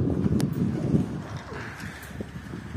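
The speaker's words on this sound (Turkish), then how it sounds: "Rüzgar da var şu anda." Outdoor wind blows steadily in a garden, a low broadband rumble buffeting the microphone throughout with faint rustling on top.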